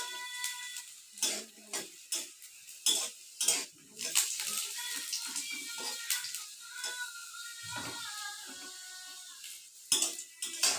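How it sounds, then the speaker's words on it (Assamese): Garlic and raw green chillies fry in a pan with irregular clinks and scrapes of a utensil stirring against the metal, close and moderately loud, with a soft sizzle beneath. "নহৰুখিনি কেঁচা জলকীয়াখিনি ধুনীয়াকৈ ফ্ৰাই কৰি ল'ম"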